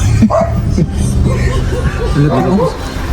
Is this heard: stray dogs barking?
yes